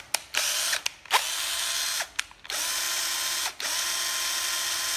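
A cordless drill from Japan revs in repeated bursts, stopping and restarting as it switches between slow and fast speed modes, its loud, steady whine changing pitch between runs, with no one talking.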